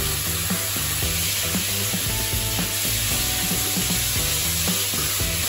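Sliced cooked bacon and sliced ham sizzling in a frying pan for carbonara, a loud steady hiss of frying with scattered stirring scrapes and taps, close up and continuous with no talk.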